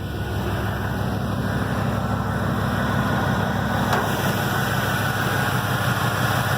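A truck engine idles steadily and loudly close by, a deep, even rumble with a slight rhythmic pulse and vibration that holds unchanged throughout.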